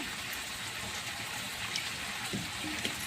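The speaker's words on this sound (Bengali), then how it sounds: "এটাতে একটু জল দিব, দিয়ে সরষেটাকে ঘুরিয়ে নেব। হালকা করে জল দিব" Water trickles steadily into a bowl of finely ground mustard paste in a Bengali kitchen for mustard hilsa, a soft continuous pour with a few faint clinks near the end.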